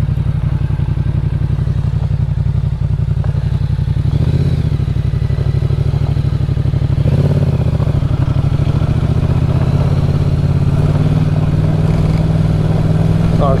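A Yamaha Ténéré motorcycle rides a forest trail, its engine droning loudly and steadily up close with bumps and clatter from the rough ground, and a rider's voice faintly heard now and then.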